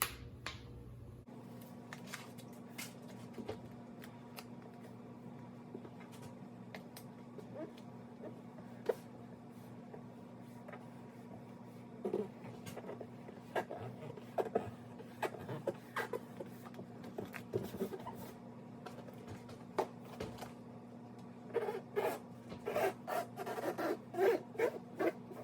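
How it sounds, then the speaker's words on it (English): Backing paper peeled off a vinyl wood grain sticker on an iRobot Roomba i7+ robot vacuum, a quiet run of crackly tearing and rustling ticks that grow denser and louder toward the end over a steady low hum. "let's peel the rest of this paper off and get this bad boy done"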